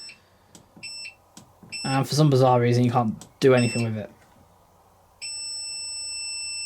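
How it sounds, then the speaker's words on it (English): A Bosch Logixx 10 washing machine sounds a string of short electronic beeps and then a long continuous tone, while someone talks in the middle of the clip. "You just notice that I've made it beep."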